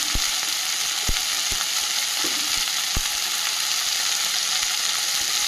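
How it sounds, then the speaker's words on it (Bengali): Okra and brahmi greens curry with turmeric frying in a pan, giving a steady broadband sizzle with several sharp clicks and scrapes of a spatula stirring through it, close and continuous with no voices. "দিয়ে ভালো করে কষিয়ে নেব"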